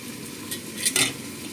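Onions frying and sizzling in a pot, a steady close hiss with a brief scrape of stirring utensils against the pot midway.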